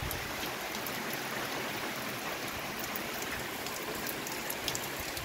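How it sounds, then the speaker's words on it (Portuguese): Rainwater pours steadily from a roof spout on a rural homestead in Paraíba, a continuous broadband splashing and hissing wash with no pauses or talk. "Vou mostrar aqui pro pessoal que a água caindo aqui na biqueira."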